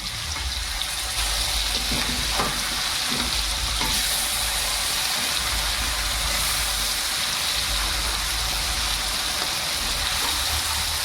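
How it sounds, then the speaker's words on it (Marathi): Pieces of tuna fish frying in a pan, a loud, constant hissing sizzle that fills the whole stretch, with a couple of faint knocks or turns partway through. "हे बघा कुप्पा फ्राय आपला मस्तपैकी झालेला आहे"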